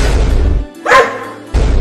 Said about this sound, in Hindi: नहीं रहो, बाहर बहुत सारे कुत्ते घूम रहे हैं।